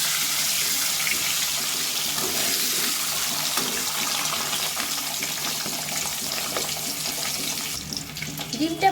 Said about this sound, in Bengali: ডিমটাকে আমি ভালো করে ভেজে নেব।